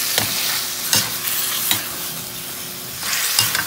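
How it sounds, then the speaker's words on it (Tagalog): Chicken afritada stirred in a pan: a steady sizzle with four or five scraping stir strokes spaced about every second, close and fairly loud, with no voices. "haluin natin"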